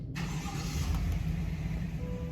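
A 2021 Chevy Tahoe engine cranks and catches, then settles into a steady, fairly loud idle that continues without pause, heard close up with no talk.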